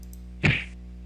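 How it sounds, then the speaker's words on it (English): A single punch sound effect lands as one sharp, loud thwack, a slap-like hit that fades quickly against a faint steady background hum. "Someone punches someone."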